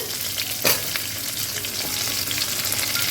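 Chopped vegetables including pointed gourd hit hot oil in a pan for a Bengali mixed vegetable labra, a loud steady sizzle with a sharp clatter of stirring near the start, no voices.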